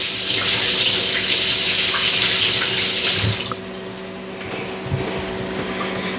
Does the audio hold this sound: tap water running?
yes